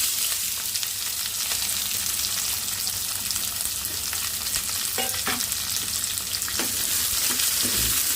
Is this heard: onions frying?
yes